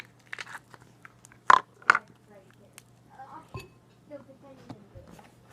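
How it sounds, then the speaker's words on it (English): Crunchy slime squished by hand gives a few sharp crackling pops, then softer scattered crackles, fairly close, with a low steady hum underneath. "This is crunchy slime."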